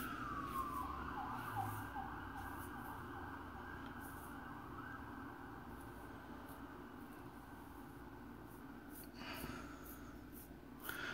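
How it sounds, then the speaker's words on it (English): An emergency vehicle siren heard from a distance on a steady tone through most of the clip, faint and continuous with a brief rising wail near the start. "I hate sirens."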